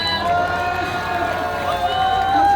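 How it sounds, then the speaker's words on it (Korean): An outdoor political rally crowd in front of Seoul Detention Center cheers for a young speaker. Massed voices shout and call out together in a sustained, loud din with a tonal, chant-like quality. "우리 젊은 청년에게 다시 한번 큰 박수 부탁드립니다"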